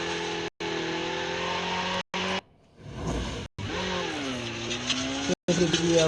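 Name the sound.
motorbike riding in a battle royale video game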